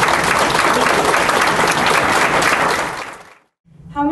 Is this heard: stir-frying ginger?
no